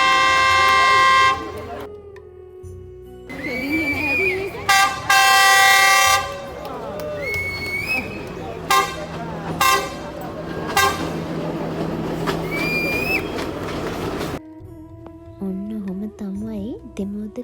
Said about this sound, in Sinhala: මේ බලන්නකෝ ඒ ට්‍රේන් එක.